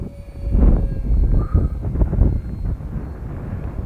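Wind buffeting a microphone outdoors while an EDF foam RC plane is flown: low, gusty rumbling surges that swell loudest early and keep rolling unevenly, with a faint high whine from the plane in the background.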